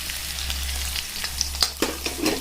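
Chilies and garlic frying in hot oil in a pan, a continuous close sizzle with a few sharp spatters and stirring scrapes toward the end, no voices.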